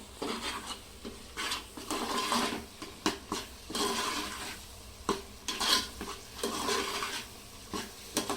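A ground spice paste sizzles as it is sautéed and stirred in a pan over a high flame. Repeated scraping strokes and metallic clinks of the spatula on the pan sound close and moderately loud over a constant frying hiss, with no talk.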